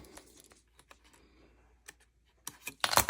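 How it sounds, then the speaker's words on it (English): Paper being cut out by hand with scissors during a stamping and card-layering craft session, a few soft snips scattered through the first half, then louder, sharper cuts and clicks near the end. "just get your scissors and we're going to cut that out"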